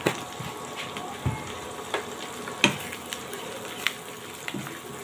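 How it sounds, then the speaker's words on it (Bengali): Ginger and garlic paste fries in a pan under a soft, steady sizzle, broken by several sharp utensil taps and scrapes spaced through the clip. "দিয়ে এগুলোকে একটু ভেজে নেব যাতে করে আদা রসুনের কাঁচা গন্ধটা চলে যায়"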